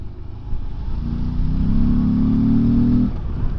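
Morbidelli T1002V motorcycle pulling hard in third gear in sport mode, its engine note rising steadily for a few seconds then easing off, loud and close over rumbling wind and road noise.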